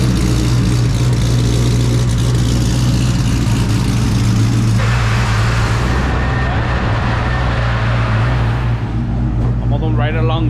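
The engine of a 700-horsepower Dodge Ram pickup drones loudly from inside the cab, its deep, steady rumble shifting partway through as it pulls and accelerates, with people talking over it.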